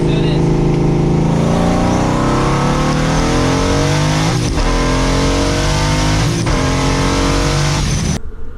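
A loud quad-turbo car engine revs hard and accelerates, rising through the gears with brief dips at shifts, close and continuous, cutting off abruptly at the end.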